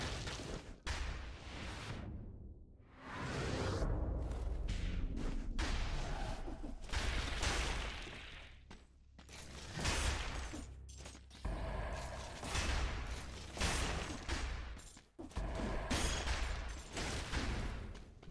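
Rapid strings of grenade explosions and gunfire in a video game, dense, loud and continuous with brief gaps between bursts.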